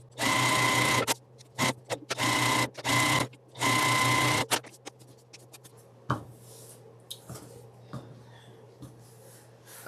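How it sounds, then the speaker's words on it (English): A sewing machine stitches a quilt square along a drawn line in three loud, steady bursts of rapid needle chatter, then falls to faint handling clicks and rustles. "you're going to sew down the second line that you have drawn on"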